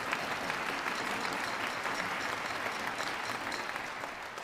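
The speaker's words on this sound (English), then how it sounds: "give yourself a round of applause." Concert band audience giving a round of applause, dense steady clapping from a full hall, moderately distant and continuous throughout.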